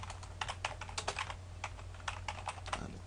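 Rapid typing on a computer keyboard, a steady run of close, crisp key clicks with uneven rhythm and no voices.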